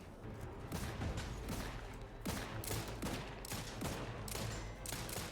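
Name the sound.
gunfire at robots in video game The Outer Worlds 2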